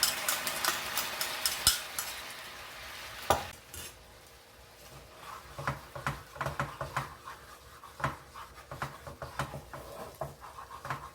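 Gochujang stirred in a pan while cooking for bibimbap, with a soft sizzle underneath and repeated scraping and clicking strokes of a utensil against the pan, moderately close and fairly quiet, with no voices.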